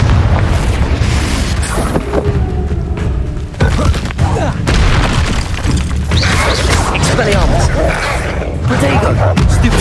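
A Confringo blasting spell in the video game Hogwarts Legacy sets off loud, booming explosions with crashing debris. The rumbling blasts fill the whole stretch, dense and close.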